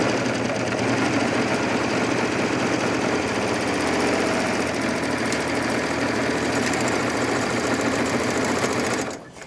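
A Bernette coverstitch machine fitted with a Bernina binder attachment runs continuously while stitching fabric, a loud, fast, even mechanical whir that stops abruptly at the end.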